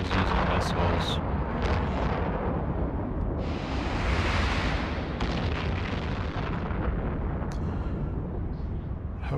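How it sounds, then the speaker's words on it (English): Missile launches and booming explosions from an EVE Online space battle roar continuously and loudly, dense with layered blasts and crackling bursts, with a bright whooshing swell midway and sharp pops later. "Alex is using missiles."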